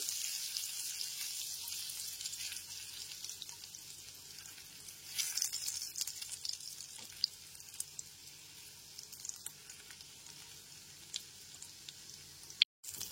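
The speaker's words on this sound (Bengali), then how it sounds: "পেঁয়াজ কুচিটা দিয়েও হালকা করে ভেজে নেব" Chopped onion frying gently in a pan over a low gas flame gives a soft, steady, faint sizzle with a few light clicks, heard alone without talk.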